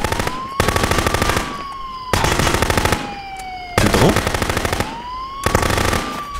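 Automatic gunfire in the video game Contraband Police rattles out in four rapid bursts separated by short pauses, with a steady tone running underneath.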